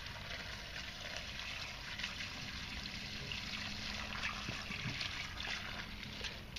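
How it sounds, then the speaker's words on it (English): Running water trickles and splashes steadily in a home science experiment that is flooding, a continuous broadband wash holding at an even level throughout with no talk. "We've got too much water going here."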